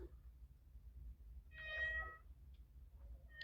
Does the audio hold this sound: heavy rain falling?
no